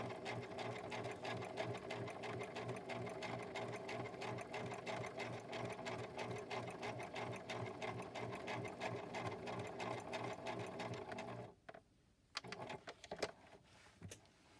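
A sewing machine stitches fabric pockets in a craft project, running in a fast, steady mechanical rhythm at close range for most of the clip before stopping, followed by a few brief handling clicks.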